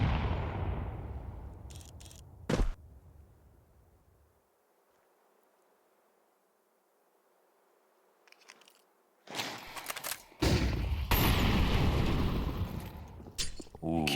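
Grenade blasts during a professional Counter-Strike 2 match, one sharp bang early on, then after a quiet stretch a loud burst of explosions and crunching impacts.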